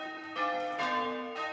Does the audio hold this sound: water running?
no